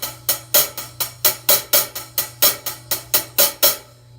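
A snare drum plays an inverted paradiddle, rapid even strokes, with Latin-style accents on the last left stroke of each phrase standing out, over a steady low hum.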